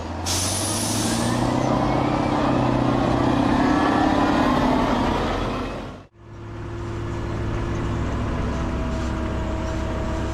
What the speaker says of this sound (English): what's that truck doing in the middle of the road?